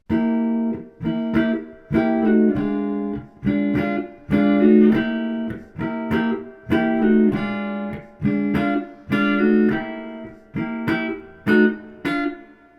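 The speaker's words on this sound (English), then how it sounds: "there's a little chromatic walk up and down that you can do that sounds like this." A guitar plays a chromatic walk of short strummed chords that step up and then back down, each chord clipped off before the next, steady and close.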